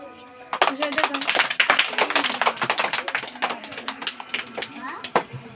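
Audience clapping at a children's prize-giving program for 12 Rabi ul Awwal at a madrasa, a burst of scattered, uneven applause from a small crowd, fairly close, with voices talking over it.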